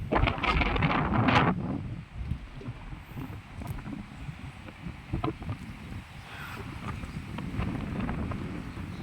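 Wind gusts buffet the microphone with low rumbling noise, strongest at the start, then settling into a steady, softer blustery roar outdoors.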